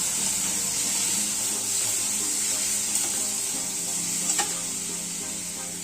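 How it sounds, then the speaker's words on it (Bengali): Chopped tomatoes being stirred into egg curry masala in a pan, a steady broad sizzle running throughout with a few faint scraping clicks of the spoon, close and fairly loud, no talking. "এবার আমাদের টমেটো কুচি দিলাম আর ভালো করে নেড়ে চেড়ে নিলাম।"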